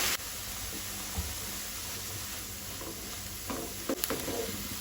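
A spoon scrapes and stirs Goan valachi bhaji, a field bean dish with grated coconut, in a pan, with soft sizzling under a few scattered clinks and scrapes, no voices.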